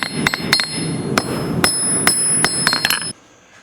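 A blacksmith's hammer strikes a hot steel leaf on an anvil in a quick run of bright, ringing blows, some doubled, loud and close, and then it falls quiet.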